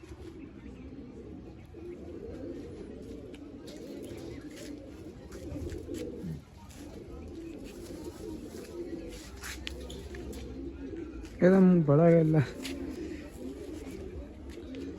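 Kalsira pigeons in a loft call with one loud, close burst of throaty cooing near the end, over steady background noise and a faint murmur of speech.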